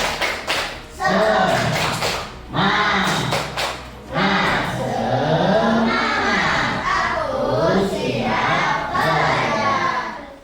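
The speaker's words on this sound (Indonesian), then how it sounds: "Ya, tepuk semangat." A classroom of students performs a rhythmic spirit clap together, bursts of loud clapping and tapping in patterned sequences with brief pauses, mixed with children's voices chanting along.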